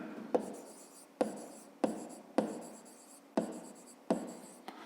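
A pen or chalk writes out a math solution for a fifth-grade perimeter problem in steady scratchy strokes. Each stroke starts with a sharp tap, and the strokes repeat about every second up close.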